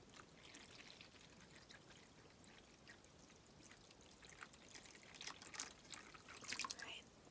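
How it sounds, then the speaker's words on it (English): Water poured gently into a bin for a seed bomb craft, a soft continuous trickle and drip that swells slightly toward the end, quiet and close. "Let's pour the water into the bin very gently."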